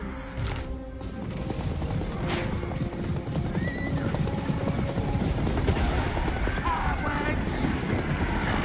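Horses gallop in a Total War: Warhammer battle, a dense continuous drumming of hooves under clashing mechanical battle noise that builds steadily in loudness.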